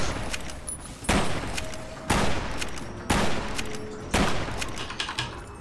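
Gunfire in the video game Fallout New Vegas: four loud, sharp shots spaced about a second apart, each one ringing out briefly before the next.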